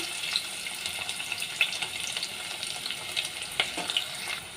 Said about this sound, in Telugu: ఆయిల్ హీట్ అయిందండి, ఆనియన్స్ వేసుకుందాము.